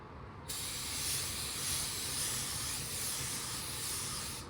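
A paint spray gun lays a coat of car paint, with a continuous close, even airy hiss that starts abruptly and holds steady without pause.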